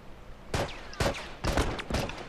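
Four quick bursts of gunfire in The Last of Us online multiplayer crack out in rapid succession, sharp and fairly loud against a quiet background.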